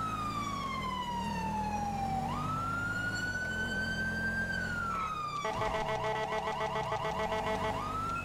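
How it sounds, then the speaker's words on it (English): A police siren in the video game GTA 5 wails continuously, sweeping up and down, then switches to a rapid yelping pattern; loud and steady throughout. "We'll cut the sirens."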